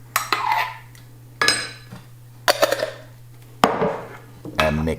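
Utensil scraping and clinking against a bowl while mixing a sauce of French mustard, sambal, tomato ketchup and mayonnaise, in several separate close bursts of stirring with short pauses between them.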